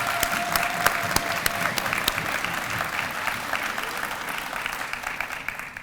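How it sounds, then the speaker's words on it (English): An audience at a nursing program graduation celebration claps in a sustained, fairly even round of applause, with a few sharper individual claps standing out near the start. "Let's give everyone a round of applause."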